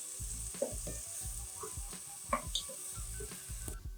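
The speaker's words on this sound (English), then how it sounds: "I'm going to start with the onions. It's going to allow this to saute for about a minute till it goes translucent." Onions sauté in a pot for sweet potato soup, a steady soft sizzle broken by regular rhythmic scraping stirs and light utensil taps against the pot, close and moderately loud, without talking.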